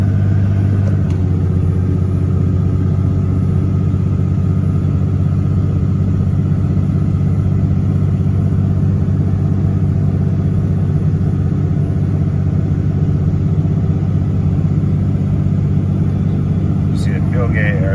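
Inside the cab of a second-generation Ram with a Cummins diesel towing a 10,000-pound trailer on the highway at under half throttle, a steady, loud, low engine and road drone runs throughout.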